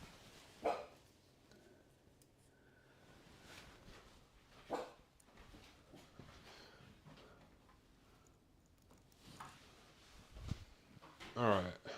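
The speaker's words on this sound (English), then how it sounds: "What are you barking at?" A dog barks a few times in short bursts, spaced apart, over a quiet room with faint household clatter.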